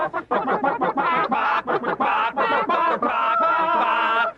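A hen clucks rapidly and continuously, close and fairly loud, a busy run of short chattering calls with no pause.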